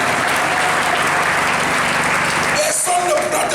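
A church congregation applauding in worship, a dense continuous clapping from many hands close and loud throughout, with voices mixed in near the end.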